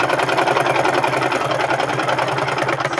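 A sewing machine stitches a cross pocket on men's pants, running in a steady fast rhythmic whir with rapid needle clatter, loud and close throughout with no pauses.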